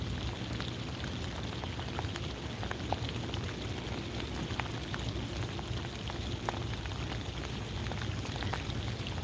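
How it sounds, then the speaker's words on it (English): Steady rain falls outdoors during a fishing trip, a dense, even patter of drops striking nearby surfaces that continues without pause at moderate loudness. "This rain's pressing buttons for me on my phone."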